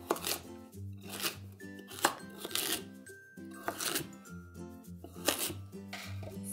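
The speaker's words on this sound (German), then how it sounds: "Ich schneide mir jetzt die Karotten auch gleich einmal in grobe Stücke." A knife chops carrots into coarse pieces on a cutting board for a carrot and ginger soup, giving a quick series of close, crisp cuts in an irregular rhythm with no talk.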